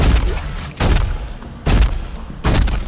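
Gunfire in the sci-fi horror game Dead Space 3 during co-op play: four loud, booming shots spaced about a second apart, each with a ringing tail.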